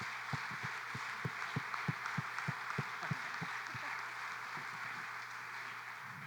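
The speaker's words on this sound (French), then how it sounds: "Un bon main d'applaudissements pour notre panel" A live audience applauds a panel at a community meeting, scattered hand claps, fairly faint and distant over a steady room hum, fading after about three seconds.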